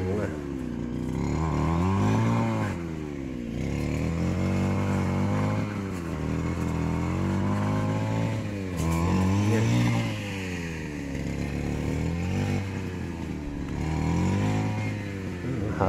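A grass cutter engine runs on a string bean plot, rising and falling in repeated revving surges as it works, loud and near throughout.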